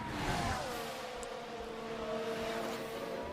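Formula 1 cars in the racing game F1 Manager 24 scream past during an overtake, a sustained high-revving engine whine with shifting pitch, loud and continuous, with no voices over it.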